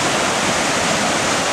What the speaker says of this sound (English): The river is raging right now. It would be unsafe to cross by foot, I think.